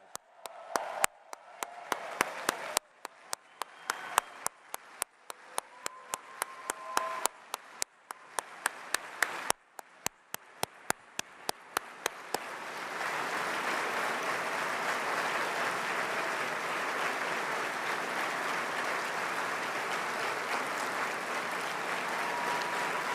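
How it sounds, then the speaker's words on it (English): Audience applause at a Human Rights Campaign national dinner, starting as scattered individual claps that build after about twelve seconds into dense, sustained clapping filling the room. "I'd like us all to give them a big round of applause"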